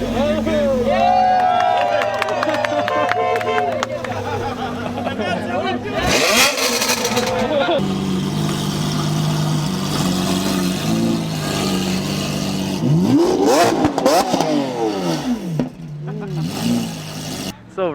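A Lamborghini Aventador with a straight-pipe exhaust revs hard in repeated bursts, rising and falling with loud crackle, while a crowd chatters around it and other engines rumble nearby.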